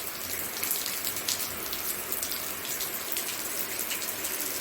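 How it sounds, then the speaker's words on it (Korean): Heavy rain pours down steadily on potted garden plants outdoors, a dense, even hiss of drops pattering close by on leaves and soil without pause and without any voices. "비가 쫙쫙쫙쫙 옵니다, 지금은."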